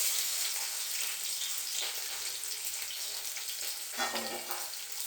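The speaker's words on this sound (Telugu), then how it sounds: "ఉల్లిగడ్డ, పచ్చిమిర్చి ఇలా కలుపుకుంటున్నాను" Onion and green chilli sizzling in hot oil while being stirred, a steady frying hiss with soft scraping strokes and a louder stir toward the end, close and moderate, without speech.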